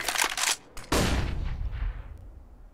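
A flashbang grenade is thrown and detonates in a video game, a couple of sharp reports followed by a loud blast whose rumble and hiss decay away over a couple of seconds.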